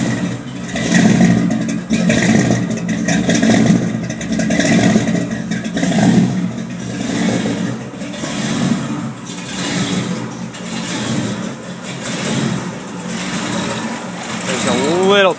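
Exhaust of a 1979 Ford with a 460 V8 idling cold, a loud, continuous rumbling throb with slight fluctuations, and someone talking over it at times.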